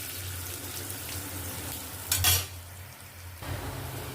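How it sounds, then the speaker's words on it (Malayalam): Turmeric masala being stirred in a hot pan for fish curry, giving a steady low sizzle with a brief louder scrape of stirring near the middle, close and alone. "ഇളക്കി കൊടുക്കാം."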